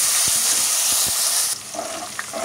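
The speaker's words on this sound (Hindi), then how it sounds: "हुण असीं इहदे च 2 प्याज सुटांगे, गोल्डन ब्राउन होने तक वेट करांगे" Two onions frying in a pan, giving a steady, close, loud hiss of sizzling oil, then the sizzle drops abruptly and continues quieter with a few faint clinks and stirs.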